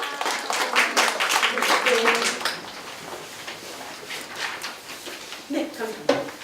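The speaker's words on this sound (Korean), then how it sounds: "박수로 환영해 주시기 바랍니다" Applause from a seated audience at a university admissions briefing, welcoming a speaker to the front: a dense burst of clapping for about two and a half seconds that thins into scattered claps, with a few voices murmuring underneath.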